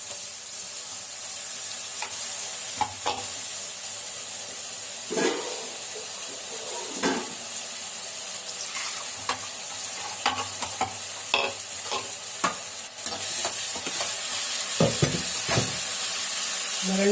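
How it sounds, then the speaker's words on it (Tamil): Onions frying with ginger garlic paste for chicken kuzhambu, a steady sizzle under scattered scrapes and clinks of a stirring spoon against the pan, with no speech. "இப்போ பாருங்க, வெங்காயம் நல்லா வதங்கட்டும்."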